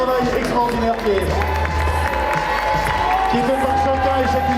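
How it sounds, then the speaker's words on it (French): Crowd at a cosplay contest prize-giving applauding contestants, a continuous roar of clapping and cheers with voices mixed in, filling the whole stretch at a steady loud level. "On les applaudit très très fort pour ce travail extraordinaire"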